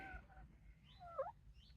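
Chickens clucking and calling inside a backyard chicken pen, a few brief soft squawks and murmurs heard close by over quiet background, with no talk.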